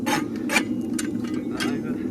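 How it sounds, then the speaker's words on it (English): A farrier's rasp scrapes a horse hoof in several quick, close strokes. The rhythmic rough rubbing comes in short bursts over a low background hum. "The rasp is just accentuating what I've done with a hammer really on that inside"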